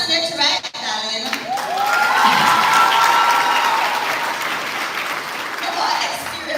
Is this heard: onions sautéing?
no